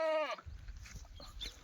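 A lone Kathiawadi goat gives one short, wavering bleat up close, followed by low rumbling background noise and faint voices.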